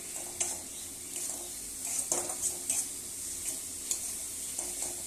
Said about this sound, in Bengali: এরকম আমার টমেটো ভাজা হয়ে গেছে